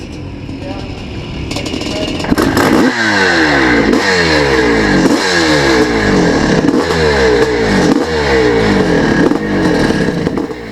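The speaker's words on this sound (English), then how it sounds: "have a look at Jim riding the bike on its first race meeting at Thornhill near Dumfries some years back" A Honda CR 480 hybrid dirt bike, built from 1979–82 parts, races in a pre-1984 class meeting at Thornhill near Dumfries, its engine revving loudly and close in repeated rising surges as it shifts up through the gears.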